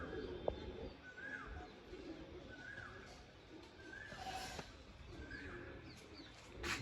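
Soft, repeated cooing of pigeons being fed in a quiet outdoor setting, with faint rustling and distant background noise.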